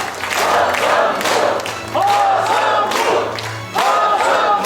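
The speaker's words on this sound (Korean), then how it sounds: "여러분 마음에 드셨던 만큼 박수 함성 부탁드립니다" A crowd at a political rally in Changwon, South Korea, breaks into loud applause and cheering in repeated surges, with clapping and shouts swelling and easing between bursts.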